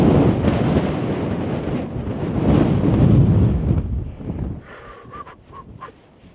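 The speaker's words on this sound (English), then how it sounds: "Very, very windy and cold up here." Strong, cold wind buffets the microphone high on a mountain in Glencoe, Scottish Highlands, roaring loudly for several seconds before dropping to quieter gusts, with no talk.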